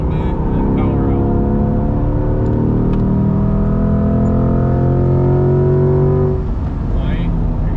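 A Corvette C8 accelerates on a race track, its engine rising in pitch through a sustained roar before easing off near the end, with an instructor's voice heard over it.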